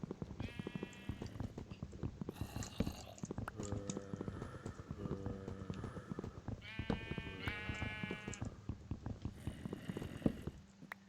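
Sheep in the video game Minecraft bleat repeatedly in short wavering calls, mixed with footstep clip-clops and game sounds, fairly loud and close.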